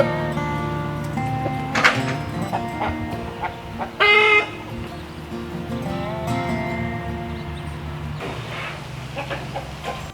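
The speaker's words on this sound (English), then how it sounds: "the chickens are picking through it" Chickens cluck and call close by while picking through straw in a barn, with a few louder squawks and a thunk or two amid steady low background noise.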